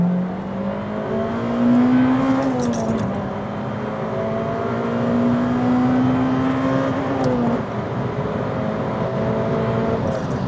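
A Honda Civic Type R EP3 engine revs hard through the gears on a straight road, pitch rising and dropping at each shift, loud and steady without any talk.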